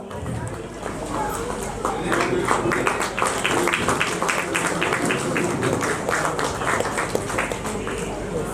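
An audience at an Onam cultural programme gives a burst of steady applause lasting several seconds, with a voice talking over the clapping and murmuring in the background.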